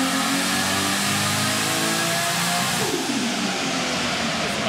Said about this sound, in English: There's some RB noises, Tyler.